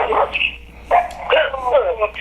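A dog gives several sharp, close barks and yips in quick succession, interleaved with people talking nearby in a casual home setting.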